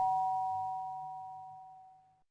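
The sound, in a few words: doorbell ringing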